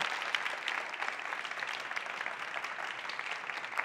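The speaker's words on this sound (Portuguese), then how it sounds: "Pode aplaudir essa guerreira aqui" Audience applause, a steady wash of clapping from a crowd at a human rights event on family and inclusion, sustained at even density throughout with no pauses.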